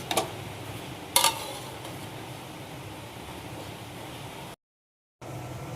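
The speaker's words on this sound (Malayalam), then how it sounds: "ഇനി എല്ലാം കൂടി ഒന്നും കൂടി ഇളക്കി കൊടുക്കുക" Kerala-style bitter gourd thoran being stirred in a cooking pan gives a low, steady hiss with a couple of sharp utensil clacks near the start, then a brief silence before the hiss resumes.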